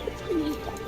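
A lone female domestic pigeon coos once, a short, soft, gliding low note close by, set against faint background noise with no talk.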